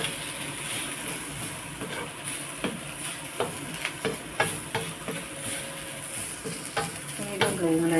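Beetroot thoran is stirred in a pan over a medium flame, a steady close sizzle with repeated scraping clicks from the spoon and no voices.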